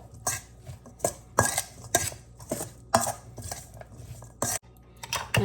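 Vegetables are mixed into a corn salad in a bowl, with repeated rhythmic clinks and scrapes of a utensil against the bowl, close and fairly quiet, with no talking.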